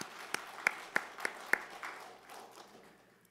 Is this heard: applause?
yes